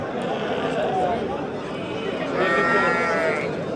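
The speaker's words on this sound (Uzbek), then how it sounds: "Qisira bular, qisir qo'ylarim." Sheep bleat repeatedly at a busy livestock market in Kokand, their cries rising over a constant murmur of crowd chatter, with a louder, wavering bleat near the end.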